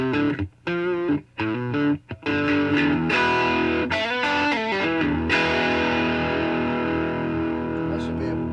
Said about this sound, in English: Now it's gonna sound a little dirty because I'm not running through the reverb over here.